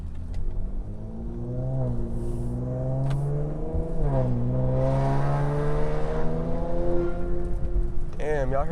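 An Infiniti Q50 with a VR30 engine revs loudly through its exhaust, pitch climbing and falling in several sweeps with a sharp burst near the end, under a voice talking.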